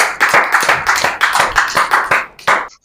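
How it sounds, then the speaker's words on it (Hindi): Close, loud rhythmic clapping from a small group welcoming a young poet at a Hindi poetry gathering, even beats in a steady pulse for under three seconds before stopping abruptly. "जोरदार तालियों के साथ स्वागत करें"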